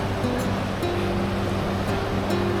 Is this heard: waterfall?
yes